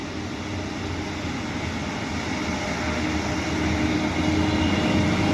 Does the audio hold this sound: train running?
yes